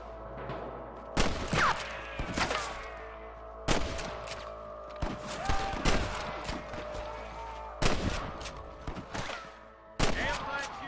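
Repeated gunshots in the video game Red Dead Redemption crack out in irregular bursts over a steady low hum, some single loud blasts and quick clusters, with voices talking intermittently underneath.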